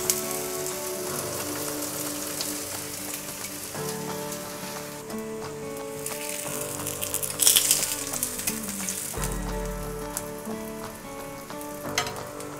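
Thalipith frying in oil in a pan over medium-low heat, a soft, continuous sizzle and crackle under prominent background music.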